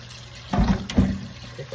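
Turkey wings are rinsed with vinegar and water at a kitchen sink, with two close splashy bursts of running and sloshing water over a low background hum.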